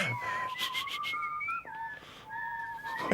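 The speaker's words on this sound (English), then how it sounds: "managed to carry on whistling with food in your mouth" A person whistles a tune with food in their mouth, clear, close and fairly quiet, with sliding pitch, a short break midway, then a return to a lower sustained note.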